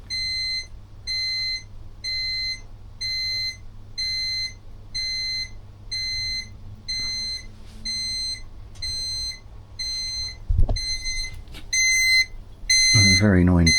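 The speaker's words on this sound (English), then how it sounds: "A very annoying buzzer, which I have capped off" A scissor lift's warning buzzer sounds while an AutoBench AB MR3500KG lowers with no vehicle on it, its outlet capped with an intercooler end cap. The repeated loud beeping pulses at an even rhythm and ends in a louder burst.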